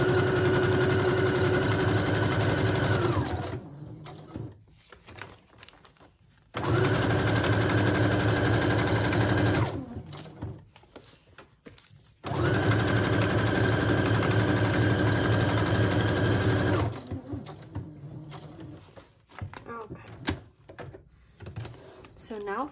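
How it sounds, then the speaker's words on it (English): A sewing machine runs in three long steady bursts, stitching a pocket all the way around onto a vintage-style junk journal at a regular stitch, with quieter pauses of handling and rustling between runs. "let's go ahead and just sew this pocket on first, all the way around"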